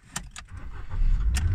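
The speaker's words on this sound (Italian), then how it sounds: "Vediamo se accende il motore." A Ford Fiesta engine cranks and starts with a newly cut key: a few sharp key or clicking sounds come first, then the engine rumbles steadily and fairly loudly, close by.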